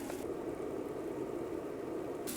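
Pancake batter sizzles in a frying pan on a small camping stove in the rain outdoors, giving off a faint, steady hiss throughout.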